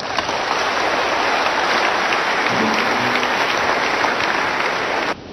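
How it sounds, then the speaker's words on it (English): A church congregation claps together in a dense, sustained burst of applause that holds steady for about five seconds and then cuts off abruptly, with no voices over it. "Clap for Jesus Christ."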